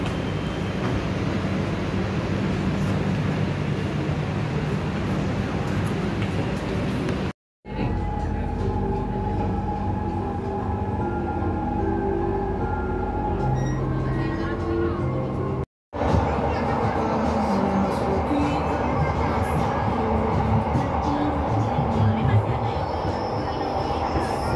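A light rail train at an LRT station in Palembang rumbles and hums steadily, with wheel and motor noise shifting between sections while people talk on the platform.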